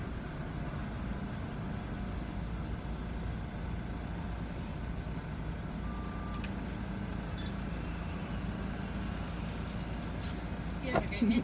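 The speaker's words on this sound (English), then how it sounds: "You guys hear my car rattling?" A car rattles while driving, with steady road and engine rumble throughout and faint intermittent clicks and knocks, growing slightly louder at the end.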